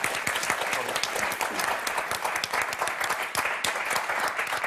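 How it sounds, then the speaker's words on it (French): A studio audience on a French television game show claps in a lively, crackling burst of many hands that keeps up continuously at moderate loudness. "Et on vous applaudit très fort."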